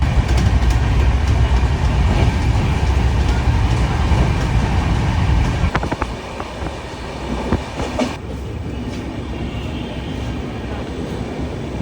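The Gandhidham to Bandra superfast special train runs on the rails with a loud, close rolling rumble and clatter, easing noticeably as it slows through Bharuch station without halting.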